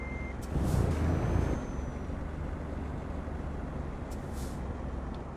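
A truck in the game Euro Truck Simulator 2 pulls away: a brief beep, a loud burst of air-brake hiss, then a steady low engine rumble, with no voices.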